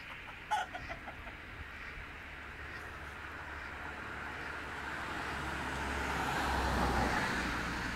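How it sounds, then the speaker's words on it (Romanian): Chickens cluck faintly in a short burst near the start, then fade under a rising rumble of passing traffic, in a village street in Şag, near Timişoara. "Gospodarii au nu numai găini pe aici,"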